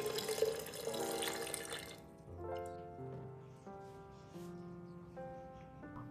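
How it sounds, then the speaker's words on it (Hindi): About a litre of water is poured into a jug holding ice and a lemon-and-sugar mixture for plain lemonade, a short splashing gush that stops after two seconds and gives way to tonal background music. "और इसमें तकरीबन 1 लीटर के बराबर पानी शामिल करेंगे ताकि ये डाइल्यूट हो जाए।"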